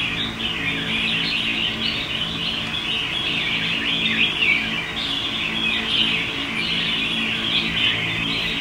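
Small lively songbirds from a bird-keeping setting in Hoa Binh chirp and call continuously, a dense bright twittering that stays steady and fairly close throughout, with no talking.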